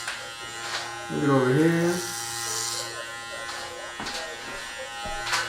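Suprent Pro Black Obsidian hair clippers buzz steadily while cutting hair, close and loud, with a brief swell in pitch as a voice speaks briefly near the start.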